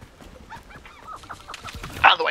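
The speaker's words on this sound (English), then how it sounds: "Out of the way, birds." Chickens clucking in the Hogwarts Legacy video game at night, a scatter of short bird calls and clucks building to a louder, brighter squawk at the end, with game sounds around them.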